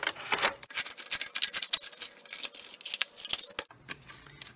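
Scissors cutting up a plastic soda bottle to make a face shield, a rapid run of crisp snips and crinkly plastic crackles, close and fairly loud, ending in a short pause.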